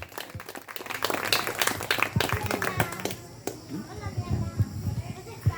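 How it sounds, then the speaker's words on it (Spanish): Church congregation clapping for the Lord during a service, a burst of scattered, uneven handclaps with voices mixed in, tapering into sparse claps and murmuring by the end. "Dele aplauso fuerte al Señor."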